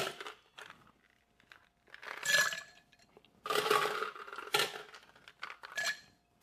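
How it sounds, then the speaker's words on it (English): Ice cubes drop into a cocktail glass for a dessert cocktail made with heavy cream, giving scattered clinks and clattering knocks in a few bursts, close and fairly quiet, with no talk. "Last, we're going to add some ice to our glass."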